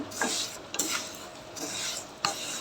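MTR vermicelli being dry-roasted in a pan for payasam, with a spatula stirring in soft, repeated scraping strokes against the metal and no talk.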